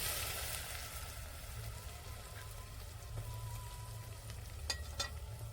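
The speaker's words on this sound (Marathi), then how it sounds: "मी आता तेलात लसूण खोबरं टाकते." Crushed garlic and coconut fry in oil over a farm wood-fired stove, giving a quiet, steady crackling sizzle with scattered small pops. The sound is faint and even throughout, and nobody speaks.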